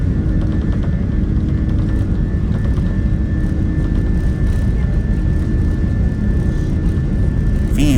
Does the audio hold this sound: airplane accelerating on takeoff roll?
yes